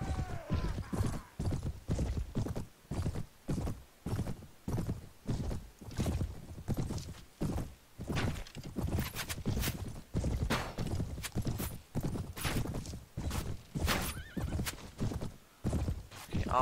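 Rhythmic clip-clop of horse hooves trotting steadily in the video game Mount & Blade, with repeated neighing and whinnying mixed in, fairly close and continuous throughout.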